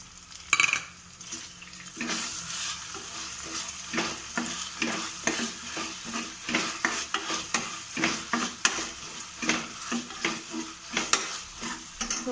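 Curry leaves, garlic and onion frying in a pan for a green moong dal curry, a steady close sizzle broken by repeated scraping stirs with a utensil, no talking.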